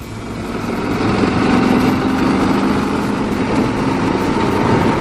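A Yamaha XT 1200 Super Tenere motorcycle engine drones steadily while riding, a loud, close, continuous rumble mixed with wind noise and no talking.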